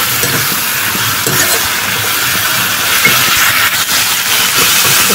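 Dried fish (shutki), already fried, is stirred with onion, chili, garlic and spices in a pan for a village-style curry, giving a steady loud hiss and sizzle with scraping stir noises throughout, no talking.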